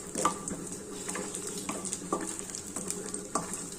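Spices frying in hot oil in a pan over a low flame, with coriander seeds about to go in: a steady close sizzle with a few sharp stirring clinks and scrapes of a utensil against the pan, no voices.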